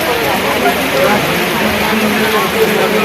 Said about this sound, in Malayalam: ചാറ്റൽ മഴ ഇങ്ങനെ ചാറിങ്ങോണ്ടിരിക്കാണ്